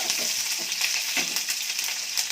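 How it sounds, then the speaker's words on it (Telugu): Onion pieces with curry leaves sizzle loudly in a hot pan while being stirred, giving continuous close frying hiss with small scraping bursts from the stirring. "ఉల్లిపాయ ముక్కలు వేసి ఒకసారి ఇట్లా తిప్పుతాము"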